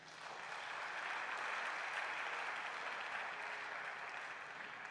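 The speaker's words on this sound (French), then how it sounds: "Acclame Jésus-Christ." A church congregation at a Sunday worship service applauds in one steady, dense wash of clapping that swells slightly and then holds without pause.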